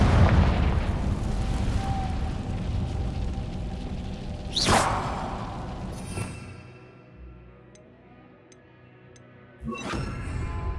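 Confringo fire blast spell exploding in the Hogwarts Legacy game: a rumbling low roar, then two sharp bright bursts a few seconds apart, the second after a quieter gap with faint ticks, loud and near.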